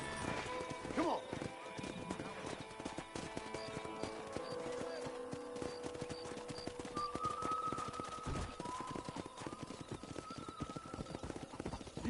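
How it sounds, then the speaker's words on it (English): Wild horses in the Red Dead Redemption video game gallop past with steady clip-clopping hooves and a few whinnies, loud and continuous under game music and effects. "there's a pack of wild horses nearby"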